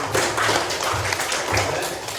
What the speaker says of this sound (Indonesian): Oke, tepuk tangan untuk kelompok satu.